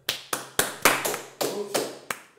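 Hand clapping in a podcast studio, eight sharp separate claps spaced unevenly, close and crisp, each followed by a short ringing decay from the room, with no talking.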